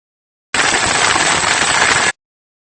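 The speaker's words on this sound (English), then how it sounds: "Look at the tractors." A crowd of tractors rolls through a street protest, their engines merging into one loud, continuous rumble that starts abruptly and cuts off after about a second and a half.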